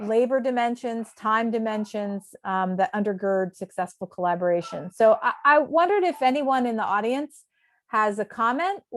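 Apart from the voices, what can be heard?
No distinct noise like a dog, phone or traffic.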